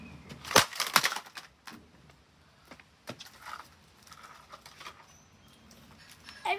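A Blaupunkt 9-inch desk fan is struck and smashed, with a couple of sharp cracking impacts followed by scattered rattling and clattering of plastic parts, close by and with no talk.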